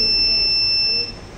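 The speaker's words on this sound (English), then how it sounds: "If you continuously close your eyes, it continuously beeps for every 1 second" Buzzer of a driver sleep-sensing alert system sounding one steady high electronic tone that lasts about a second and then cuts off, over low background hum.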